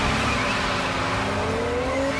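A 1970 Dodge Charger drives hard, its loud, continuous engine roar rising in pitch, with tires squealing through the whole run.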